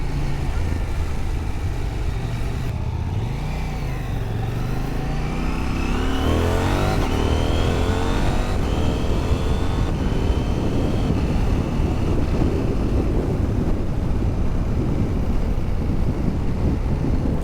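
A Husqvarna Svartpilen 801 motorcycle ridden at speed, its engine revving and rising through gears under heavy, constant wind rush on the microphone.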